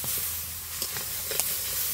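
Fish frying with spices in a pan during Bengali home cooking: a steady, close sizzle and hiss runs throughout, with a few brief sharper crackles and stirring sounds.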